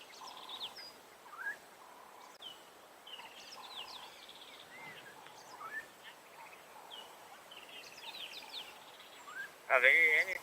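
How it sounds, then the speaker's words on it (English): Several birds call and chirp at a distance on an African safari at sunset, overlapping faintly, with a louder sharp call near the end. "We've got so many birds calling."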